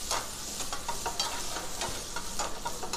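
Onion and green chilli fry with cumin in a pan, a close, steady sizzle broken by scrapes of stirring.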